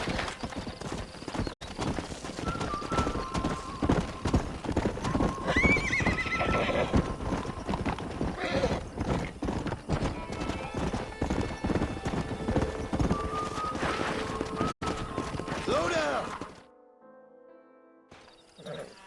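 Hooves clatter in a rapid, steady gallop with occasional neighs and whinnies over a busy background, then fade out near the end; horses in the video game Red Dead Redemption.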